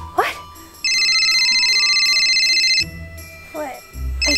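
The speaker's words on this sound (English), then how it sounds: "My phone's ringing." A phone rings at 3 a.m. with a bright, warbling electronic tone lasting about two seconds, and short bursts of voice sound come before and after it.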